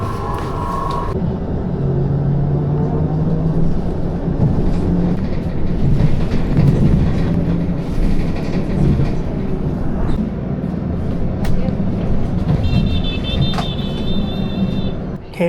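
Ride on a city bus in Wenzhou: a steady, continuous engine and road rumble fills the whole stretch, with rattles and faint background voices, and a brief high chime near the end.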